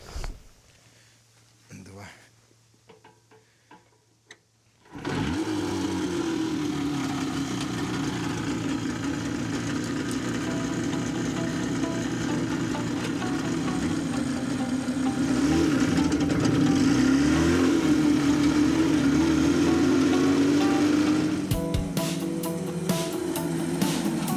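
A ZiM 350 two-stroke motorcycle engine is kick-started after a few quiet clicks and fumbling, then catches and runs loudly and steadily, idling with rising revs near the end before dropping back.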